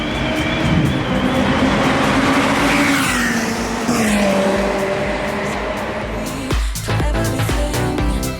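McLaren 720S supercar on a race circuit during a 2019 track day, its engine droning loudly and shifting pitch as it accelerates, with a sharp change in engine note near the end.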